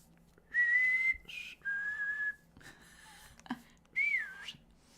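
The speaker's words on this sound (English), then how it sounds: "I never learned how to whistle. My whistle is pathetic." A person whistles a few short, wavering tones, each held for about half a second to a second with small gaps between, close and clear in a quiet room.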